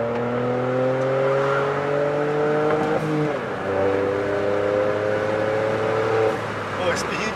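A Volkswagen up! TSI engine revs up, its pitch climbing, then drops briefly with a gear change before pulling again, loud and close.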